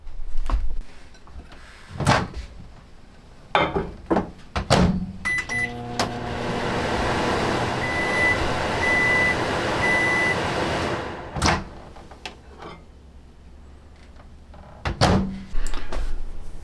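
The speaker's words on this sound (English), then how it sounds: "I put it in the microwave for about a minute" A microwave oven hums steadily for several seconds, with sharp clunks of a door opening and shutting before and after, and short electronic beeps.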